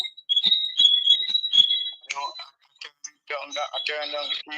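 Crickets chirping in the background outdoors at night, a shrill, rapid, pulsing trill that comes in repeated bursts with short gaps, fairly close and prominent.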